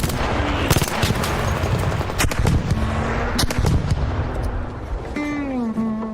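Rapid gunfire in a PvP video game, a dense string of sharp shots and bursts throughout with a rising tonal effect near the end.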